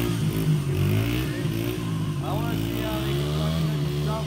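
A motorcycle engine at an outdoor event revs hard, a loud droning roar with rising pitch sweeps, while people talk and shout nearby.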